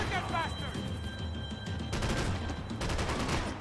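Bursts of gunfire from the video game Max Payne 3 crackle out in a few rapid volleys, mixed with game sounds and a voice speaking.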